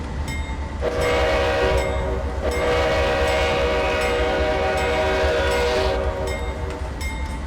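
A Canadian National freight grain train rumbles along Marias Pass in a train simulator game, a steady low rolling drone with a sustained tonal horn-like sound through most of the stretch.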